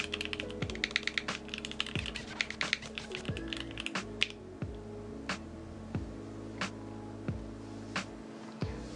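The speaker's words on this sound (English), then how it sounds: "Let's do a typing test" Rapid clacky keystrokes on a custom-built Fuji 65 mechanical keyboard with Poron foam, a fast dense burst of typing that slows into sparse, deliberate key presses, close and clear.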